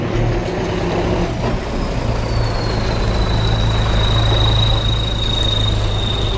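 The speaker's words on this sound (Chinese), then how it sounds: "听听这个发动机的感觉" A 2045 off-road vehicle idles with a steady, low droning hum close by, its engine note unchanging throughout, and no one speaking.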